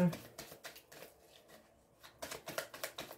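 Tarot cards being shuffled at a reading, soft papery riffles in rapid repeated bursts, fairly quiet and close, with a pause in the middle before another run of quick flicks.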